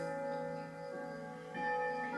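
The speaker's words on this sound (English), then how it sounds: "let the bells bring you inside." Bells ring softly and sustain in a calm guided meditation, with clear ringing tones that fade and then swell again as a second strike sounds near the end.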